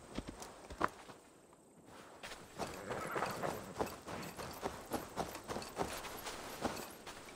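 A horse walks at a steady clip-clop in Assassin's Creed Valhalla, its hoofbeats even and fairly faint, repeating in a regular rhythm after a brief quiet gap near the start.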